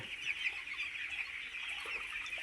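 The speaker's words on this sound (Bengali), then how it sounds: "মুরগিগুলো ভালো আছে" Eight-day-old chicks peeping and cheeping together in a continuous high chorus, steady and moderately close, with no talk.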